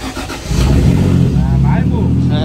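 A car engine cranks and catches, then settles into a steady, loud low idle close by, with a voice talking over it.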